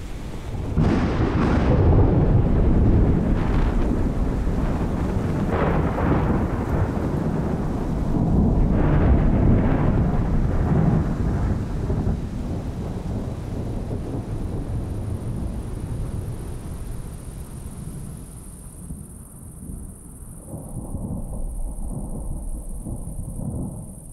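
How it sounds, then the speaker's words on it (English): Rolling thunder and steady rain from a fierce summer thunderstorm, loud and booming through the first half, then easing to softer rainfall before cutting to a thinner patter near the end. "They presage fierce summer storms,"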